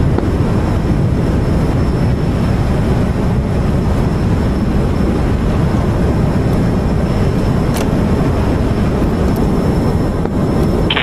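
Steady, loud broadband engine rumble from an aircraft taxiing in the DCS World flight simulator, a continuous droning roar that holds evenly throughout with no voices.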